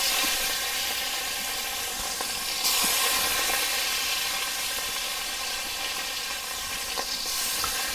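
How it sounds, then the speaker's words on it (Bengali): Small tarui fish frying in hot oil in a wok, a steady dense sizzle and hiss running throughout with occasional crackles and pops, close and fairly loud with no talk. "তেলটা ভালো করে গরম না হলে মাছটা কড়াইতে বসে যাবে"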